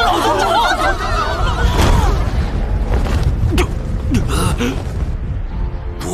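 In a fiery animated battle, a fire lotus explodes at close range with a heavy booming blast and rumbling roar, mixed with gasps and shouting voices over a dense, loud score.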